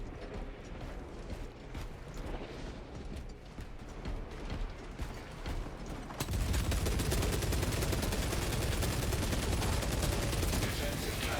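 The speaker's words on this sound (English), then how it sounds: "Servo skull connected to the system to fire it." In Space Marine 2, a defensive cannon fires as a dense, rapid barrage of heavy blasts and mechanical clatter that grows louder and more continuous halfway through, filling the scene with sustained gunfire.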